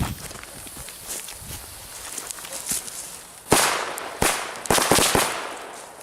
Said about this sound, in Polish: na koniec tego krótkiego, spontanicznego testu wielki karabinek z petard